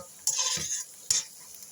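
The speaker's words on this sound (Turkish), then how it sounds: "Onun da kokusu çıkıncaya kadar kavuruyorum." A spoonful of flour is stirred and toasted in a pot for ezogelin soup, with two brief, quiet scraping strokes and a faint hiss between them.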